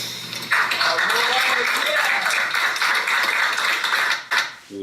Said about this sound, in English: I just want to give her a round of applause as well.